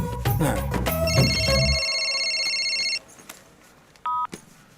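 A quick series of telephone keypad tones beeps in sequence, followed by a sustained dial tone and a brief electronic chirp.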